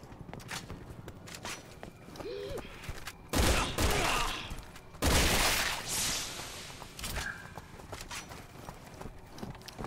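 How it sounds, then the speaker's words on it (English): An assault rifle in Resident Evil 6 fires two loud bursts, each lasting under two seconds. Softer clatter and footstep-like knocks fill the time around them. "Guess I should just be using the assault rifle."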